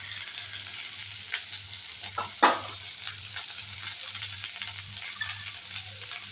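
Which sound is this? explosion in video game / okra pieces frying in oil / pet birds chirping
okra pieces frying in oil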